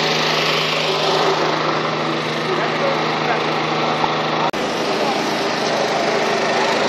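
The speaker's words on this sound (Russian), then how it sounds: "Генератор." A generator engine runs steadily at a winter street protest on Kyiv's Maidan, a loud, continuous buzzing drone close by that is broken once by a brief dropout.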